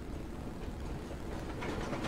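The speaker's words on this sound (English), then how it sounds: "Okay, so they do have a train." A train runs steadily in a TV drama scene, a continuous low rumble with faint rail clatter throughout, fairly close and unbroken, with no talk over it.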